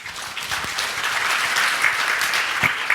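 A conference audience at AWS Summit Seoul 2016 applauds after a talk, a dense, steady wash of clapping from many hands that fills the room without pause.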